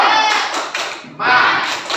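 A classroom of students performs the rhythmic Indonesian spirit clap, tepuk semangat: quick patterned hand claps in bursts, mixed with the children's voices chanting along.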